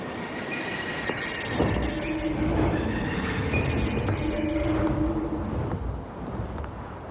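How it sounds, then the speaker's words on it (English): A train runs on rails in the video game Wuthering Waves, giving a steady rolling rumble with clacking wheels and thin sustained metallic squeals that ease off toward the end, with no speech. "you'll be able to operate the train Echo."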